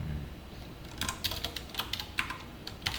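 Keystrokes on a computer keyboard while C code for a linked list is entered, coming in irregular short bursts of clicks, moderately close and alone with no talk.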